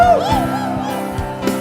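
A church congregation shouts and cheers in celebration, a loud, dense swell of whooping voices with one high rising cry standing out at the start.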